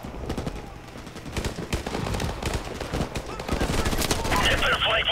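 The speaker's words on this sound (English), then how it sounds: "Hit their flank with their machine gun." Machine gun fire rattles almost nonstop in Call of Duty Modern Warfare Remastered, rapid dense bursts layered with other battle noise and shouted voices, growing louder toward the end.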